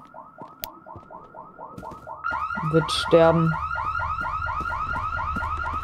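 An alarm system in the ghost-hunting video game Ghost Exile blares a loud, steady, rapidly repeating electronic warble, with a brief voice speaking over it midway.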